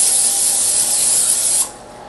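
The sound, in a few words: spraying cooking spray (Pam) onto a 9x13 cooking pan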